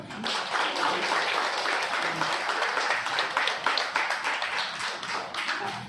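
An audience claps for a woman poet at a Tamil poetry recital, dense steady applause filling the hall and holding at an even level throughout, with no talk over it.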